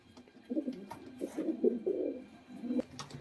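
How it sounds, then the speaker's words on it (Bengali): Pigeons, including Rampuri and Giribaz breeding pairs, coo in low, throaty bursts at close range, with several rolling phrases over a few seconds and no talking. "পায়রা কিন্তু একদম মস্তিতে রয়েছে"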